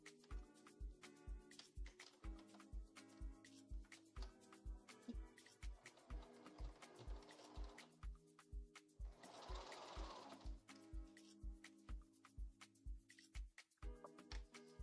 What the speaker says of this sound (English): we're gonna sew it all the way around